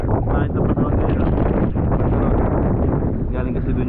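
Wind buffeting a microphone under a bridge on a rainy, gusty day, a continuous loud rumbling roar with rustling and a voice talking over it.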